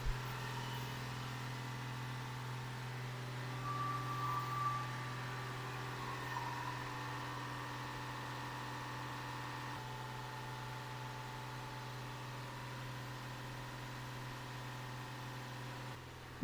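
A VW Amarok engine with a blocked DPF holds a steady hum at about 2500 rpm during DPF cleaning, a faint, even drone with a constant low tone throughout.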